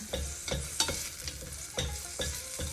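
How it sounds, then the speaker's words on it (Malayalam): A wooden spoon stirs khichdi in a pan, with soft rhythmic scraping strokes over a light sizzle, close up and without speech. "നമുക്ക് മരത്തിൻ്റെ തവി വെച്ചിട്ട് നമുക്ക് നന്നായിട്ടൊന്ന് ഇളക്കി കൊടുക്കാം"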